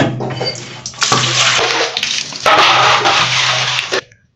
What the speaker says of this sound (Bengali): চলো এটা আবার ধুয়ে নেওয়া যাক